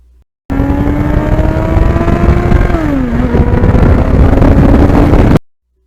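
A 1991 Yamaha FZR 1000cc motorcycle fitted with a Norton muffler rides on an open road, its engine roaring loudly and steadily, pitch holding then dipping briefly as it shifts, with wind noise throughout.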